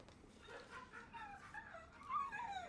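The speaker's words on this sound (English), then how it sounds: "Those noises that you hear, their pet puppy dog" A real pet puppy heard in a Bungie video game whimpers, yips and gives small barks in a quick, close run of high whines that grow louder toward the end, with no talking.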